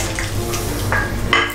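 Frittata ingredients of potatoes, onions and Parmigiano tip into a pan on the stove, a short close burst of clatter and soft sizzle with a light scrape at the end.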